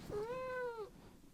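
A cat gives a single clear rising-and-falling meow lasting under a second, close and fairly soft, in a quiet indoor room with no talking.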